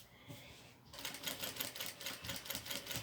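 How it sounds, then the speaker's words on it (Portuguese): A sewing machine runs in a quick, rapid stitching rhythm through fabric for a reversible crib bumper, starting after a short quiet lead-in and continuing close and steady to the end. "Então, ó, vou fazer aqui a costura, tá? Sempre puxando com a mão pra abrir o tecido."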